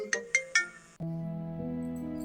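Three quick rising electronic tones, then a steady sustained ringing tone from a phone, clear and close with no talking.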